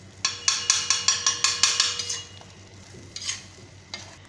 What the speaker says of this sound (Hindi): मैं भेजा मसाला तवे में बना रहा हूँ